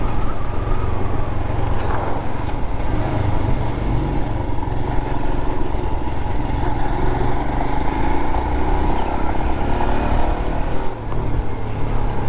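Royal Enfield Himalayan motorcycle being ridden, a continuous low engine drone mixed with rushing wind noise, fairly loud and steady, with a brief spoken word at one point.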